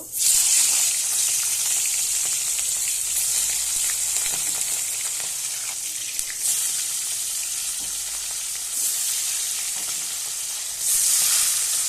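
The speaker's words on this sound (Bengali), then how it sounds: "তেল গরম হয়ে গেছে, এবার আমি মাছগুলো ভেজে নেব" Steady, loud sizzling of hilsa fish frying in hot oil, a continuous crackling hiss with no talking.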